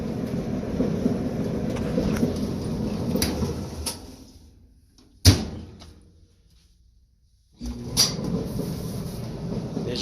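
A Kenmore dryer fitted with a replacement motor runs as a steady mechanical rumble, winds down, and gives a sharp thump. After a few seconds of silence it starts up again with the same rumble.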